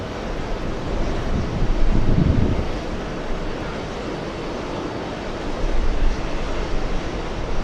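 An Etihad airliner at JFK airport gives a distant, steady jet roar mixed with gusty wind buffeting the microphone, swelling slightly at times and without any voices.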